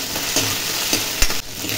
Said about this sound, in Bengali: আজকে শুটকিটা দিয়ে দিচ্ছি। একটু ভাজা ভাজা করে নিই